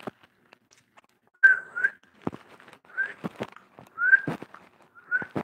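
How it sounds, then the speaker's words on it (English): A person who is not a skilled whistler tries to whistle, making several short, wavering tones in separate bursts broken up by breathy puffs and clicks, close to the microphone. "I'm trying to whistle."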